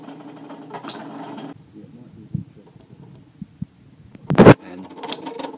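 A vintage Roland DXY-980A pen plotter draws with a low hum broken by short bursts of motor whir and soft pen taps. One loud clack comes near the end, and there is no talk.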